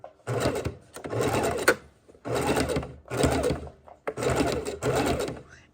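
A sewing machine stitches raw edge appliqué in short bursts of rapid, close, loud stitching, separated by brief pauses as the fabric is turned, with no talk.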